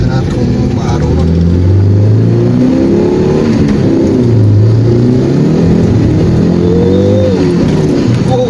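A Mitsubishi Space Wagon with front-wheel drive revs hard while its wheels spin: a loud, steady engine roar with pitch rising and falling over and over, close by, with people talking underneath.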